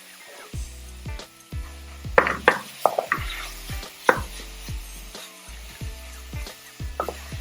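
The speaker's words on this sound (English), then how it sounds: "Now we're gonna add our minced beef. I'm gonna crumble that and brown it." Minced beef browning in a pan for chili, crumbled and stirred with a wooden spoon, heard as repeated close knocks and scrapes over a quiet sizzle, with no talk.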